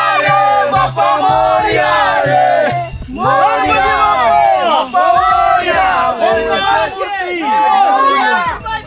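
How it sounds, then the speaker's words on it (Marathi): A close, loud crowd chanting and shouting in unison at a traditional Konkan Gauri Ganpati immersion procession, with voices rising and falling in waves throughout. "जल्लोष जल्लोष"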